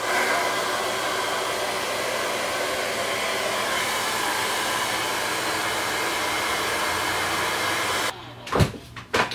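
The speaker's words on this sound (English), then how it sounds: "I'm gonna take any old hair dryer and smooth this out and set her into place" A hair dryer blows loudly and steadily for several seconds on a drag queen wig, a constant rushing whir, then cuts off, followed by a few handling bumps.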